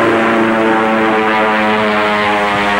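Wildcat fighter planes fly over a submarine running below the surface, a loud, steady propeller-engine drone with a sustained tonal hum that holds throughout without any speech.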